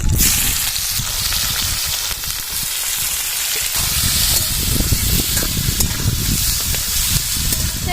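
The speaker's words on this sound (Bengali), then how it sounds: "ফোড়নটা হয়ে এসেছে এবার পেঁয়াজ কুচিগুলো ঢেলে দেবো" Chopped onions tipped into hot oil with whole spices in a wok while cooking a Bengali egg and young jackfruit curry, a loud close hissing sizzle that holds steady throughout.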